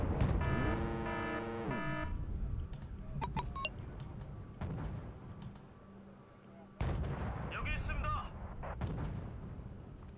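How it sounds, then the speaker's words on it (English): Rocket artillery fires in the Wargame: Red Dragon battle, a jumble of booms, rumbling blasts and sharp clicks and beeps over continuous game noise, with a voice talking partway through. "Look at all that rocket fire."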